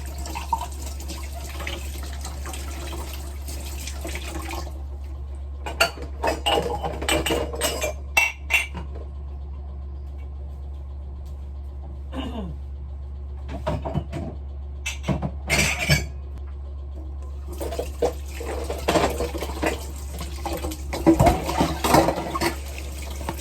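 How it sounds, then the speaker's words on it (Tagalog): Dishes are washed by hand under a running tap at home, the water hissing steadily while plates and cutlery clink and knock in scattered bursts, with a quieter stretch in the middle. "Maghugas ng mga pinggan."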